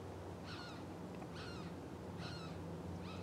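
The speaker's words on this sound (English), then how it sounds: "That's a hawk." A hawk calls from across a street near a backyard garden, four sharp, evenly spaced screeching cries at moderate distance over a steady background hum.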